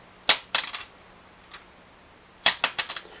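Small plastic guitar saddles or nuts drop onto a hard surface, giving two clusters of light, bright clicks and bounces, each a sharp tap followed by a few quick rattles, with a faint tick between them.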